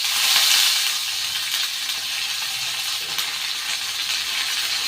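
Mustard seeds, urad dal, cumin and curry leaves sizzle steadily in hot oil, a loud, continuous close-up crackle and hiss with no talking.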